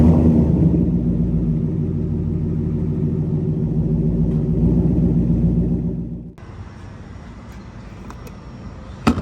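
A 5.0 car engine runs with a deep, steady, loud rumble and a low throbbing hum, then drops away to a quiet background about two-thirds of the way through.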